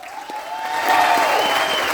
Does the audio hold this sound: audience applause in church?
yes